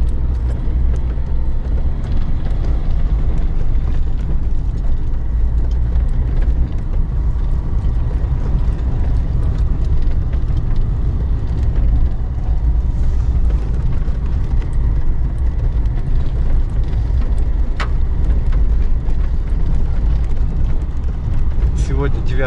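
A Chevrolet Niva driving at night in low-range third gear at about 25 km/h, its loud, steady engine drone and road rumble filling the whole stretch, with a voice heard now and then over it.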